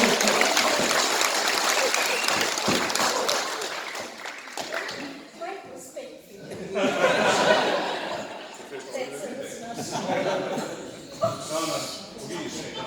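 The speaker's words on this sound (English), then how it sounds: "I think that deserves a round of applause" Audience applause at a gathering in Feilding, New Zealand, strongest at the start and then thinning, mixed with laughter and people talking.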